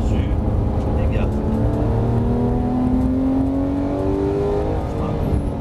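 A Porsche 911 GT3 accelerates hard on the Dreux race circuit, its engine note climbing steadily through the revs, loud and close, with an instructor's voice talking over it.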